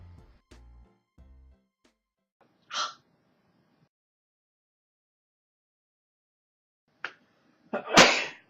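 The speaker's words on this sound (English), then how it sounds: "You just sneeze again." Mostly quiet room with scattered soft knocks, then a sharp sneeze, later a short breathy gasp and a second loud sneeze close by.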